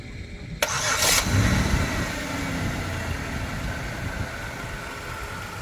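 A Pontiac Grand Prix's 3800 engine cranks briefly, then catches and settles into a steady, loud idle with a rough low rumble.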